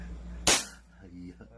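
A single sharp gunshot cracks at a shooting range, loud and close, with a brief echoing tail and faint voices around it.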